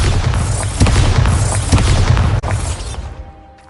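Spell explosions in Hogwarts Legacy during a goblin mine assault: a string of heavy booming blasts and crashes follow one another in quick succession, loud and close, with a sharp crack near the end before the noise fades.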